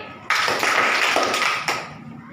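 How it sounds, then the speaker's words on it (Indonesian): Schoolchildren in a classroom clap on the teacher's cue, a loud burst of group clapping that stops and is followed by one more sharp clap, with no talk over it. "Anak bijak tepuk 2 kali."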